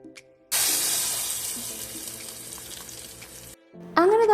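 Dried red chilies and spices hit hot oil for tempering a pumpkin curry. A sudden loud sizzle starts, crackles steadily for about three seconds and then stops, and a voice follows.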